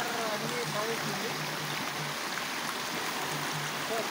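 Water flowing in a forest stream near the start of the Gullakamma river, a steady broadband rush that stays even and continuous throughout, with no voices over it.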